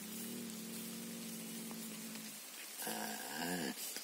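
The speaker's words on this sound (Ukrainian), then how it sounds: "Пішов дощ." Rain falls steadily on surfaces outdoors at a farmstead, a soft continuous hiss heard from shelter under a tree, with a low tonal hum and a brief louder rustle near the end.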